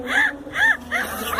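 A man imitates a duck with a cold using only his voice, producing three short nasal, wavering honks spaced evenly, close and fairly loud with no other talk.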